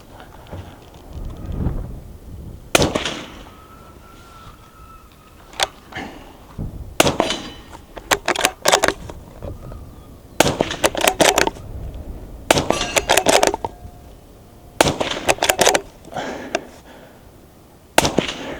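Rifle shots fired at an outdoor range with subsonic ammunition through an Arken EP-8 LPVO scoped rifle, a series of sharp cracks spaced irregularly, some in quick pairs, loud and close with a faint voice in between.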